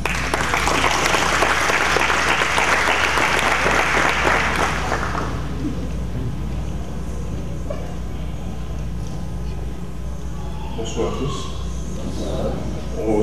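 A graduation audience bursts into loud, dense applause for about five seconds, which then fades into a low murmur of voices and a few scattered sounds.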